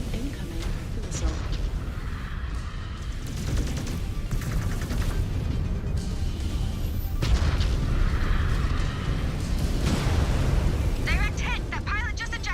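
Incoming missile explosions in a MechWarrior game: repeated heavy booms and crackling blasts roll through a dense battle din, with radio-style voices talking over the action.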